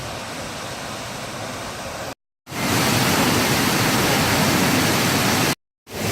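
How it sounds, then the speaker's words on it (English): Trail Canyon Falls in the Angeles, heard from the base of the falls as a loud, constant roar of falling water that fills the whole stretch, broken only by two brief dropouts. "I'm here at the base of the falls of what is Trail Canyon Falls."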